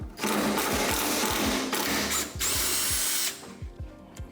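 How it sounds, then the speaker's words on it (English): An impact wrench removes engine bolts in a series of rapid, loud hammering bursts, close up, with short pauses between each run of rattling blows. "instead of using this ratchet, which is kind of slow, I'm gonna use this impact."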